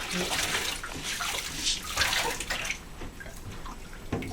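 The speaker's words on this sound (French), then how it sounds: "On va rincer tout ça." A foot being rinsed with water in a bathtub: continuous splashing and pouring water with drips, close by, with a voice speaking softly over it.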